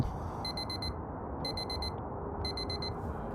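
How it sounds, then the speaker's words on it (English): An alarm clock in a video game beeps in three quick bursts of rapid electronic tones, repeating evenly over a steady background hum. "Beep, beep, beep, beep."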